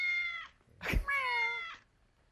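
Two clear, close cat meows sounding as a sound effect, each long and tonal, separated by a short noisy burst.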